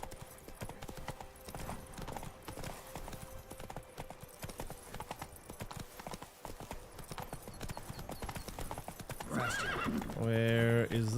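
In The Witcher 3, the horse Roach galloping with steady clip-clop hoofbeats throughout, a neigh and whinny rising near the end, while someone speaks over the hooves.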